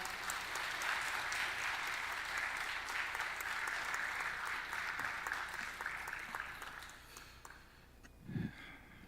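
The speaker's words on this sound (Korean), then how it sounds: "우리 목사님 나오실 때 크게 박수로 환영하도록 하겠습니다." Sustained applause from a congregation at a Sunday church service, welcoming the pastor: a dense, even roar of many hands that stays steady, then thins and fades toward the end, where a brief low sound breaks through.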